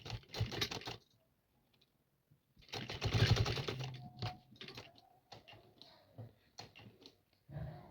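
A sewing machine stitches a kurti sleeve seam in short, rapid bursts of needle clatter separated by quiet pauses, close and fairly faint, with soft handling noises between runs.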